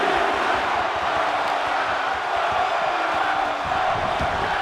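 Wrestling crowd at a pro wrestling show chanting in a steady, dense roar that fills the arena throughout, loud and continuous with no clear break.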